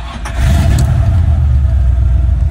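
A 1970 Chevrolet Nova's 350 V8 with a 4-speed manual fires up and settles into a loud, steady low rumble close by, with a softer mechanical sound before it catches and no voices.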